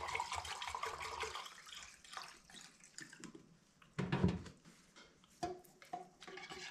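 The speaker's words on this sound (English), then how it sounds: "I'm going to pour about halfway up with the polyurethane, and then I top it off with mineral spirits." Mineral spirits poured into a can of polyurethane give soft, uneven liquid trickles and glugs, close and fairly quiet, with a couple of louder splashy bursts and small knocks between them.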